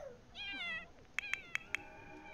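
A cat meows in The Sims 4 video game, a short mewing call followed by four quick, sharp clicks, fairly close and clear over a quiet background.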